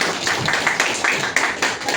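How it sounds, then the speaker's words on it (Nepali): A group claps throughout, a fairly even, moderate patter of many hands indoors, some accents standing out, with no talking. "सरको इनर्जीलाई पुग्ने ताली अलि भएन कि"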